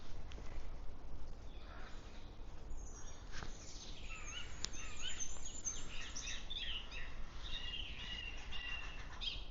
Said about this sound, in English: A lot of song, nice, a lot of song here.